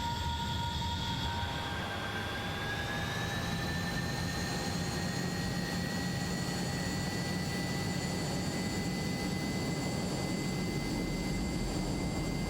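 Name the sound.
Hawker Hunter jet engine at full throttle, Microsoft Flight Simulator game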